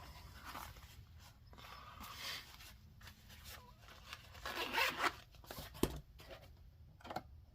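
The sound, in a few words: zipper on a double-zipped pouch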